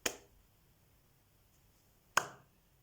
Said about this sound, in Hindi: ताली बज रही है, राइट।